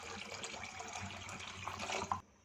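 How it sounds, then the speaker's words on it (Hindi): Water being poured into a pot of Turkish-style chicken soup, a steady splashing trickle of liquid that carries on for about two seconds and then stops abruptly. "1 कप पानी मज़ीद इसमें शामिल किया"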